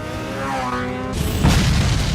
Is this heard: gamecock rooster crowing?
no